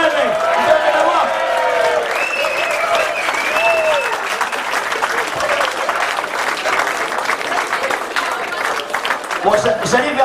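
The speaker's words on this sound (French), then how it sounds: "Alors on peut l'applaudir quand même" Crowd applause after a match, loud continuous clapping with some cheering and voices mixed in throughout, full and close.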